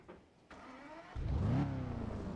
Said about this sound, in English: I love that little chirp it makes before it starts up.